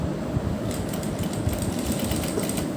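A sewing machine runs steadily while stitching a strip around a butterfly neckline, a fast even mechanical whirr with a dense rattling pulse, close and continuous throughout.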